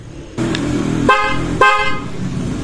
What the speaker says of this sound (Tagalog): Sobrang lakas ng busina nung nalagyan na ng relay